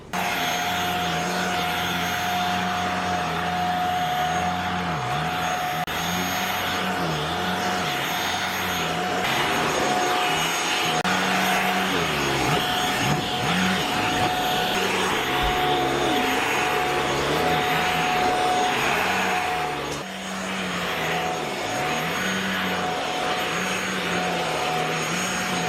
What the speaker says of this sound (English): So now let's try our ultrasonic vacuum cleaner